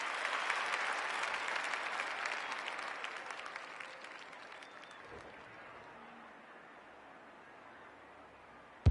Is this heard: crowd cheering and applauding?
yes